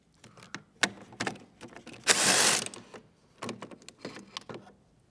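Wrench working a nut loose from the main fuse of an electric vehicle battery during a rebuild: close, irregular ratcheting clicks in short bursts, broken by one longer rasping burst midway.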